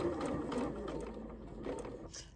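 A domestic sewing machine stitches a fabric seam and pauses to pivot at a corner, a quiet rapid mechanical whir that eases off briefly near the end, close up, with no talking.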